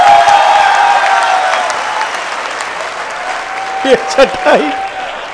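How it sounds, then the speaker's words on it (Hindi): Loud applause from a crowd at a Hindi kavi sammelan poetry recital, swelling at the start and thinning out, as a voice speaks briefly over the tail end. "तालियां बजा सकते हो"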